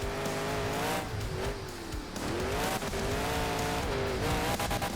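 A monster truck's engine roars loud and continuous at a freestyle event, revving with rising and falling pitch as it catches big air, with tire squeal and crowd-level noise throughout and no talk.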